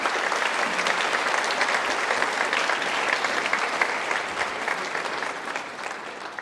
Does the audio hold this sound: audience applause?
yes